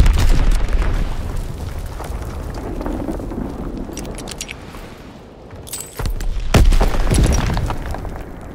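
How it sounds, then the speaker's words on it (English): A Fritz X guided bomb strikes in the Call of Duty WWII video game, with rumbling battle noise and scattered debris rattles, then a sudden close, heavy blast that trails into a rolling roar. "Dropping Fritz X bomb."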